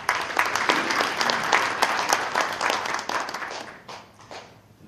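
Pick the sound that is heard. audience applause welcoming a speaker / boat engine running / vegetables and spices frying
audience applause welcoming a speaker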